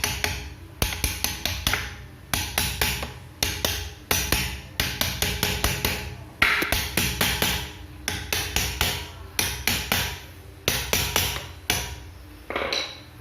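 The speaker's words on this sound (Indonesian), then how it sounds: "Kita pukul sedikit." A hammer taps a bearing into place on a Mitsubishi L200 transfer case, sharp metallic strikes in rapid bursts of several blows with short pauses between, close and loud with no speech.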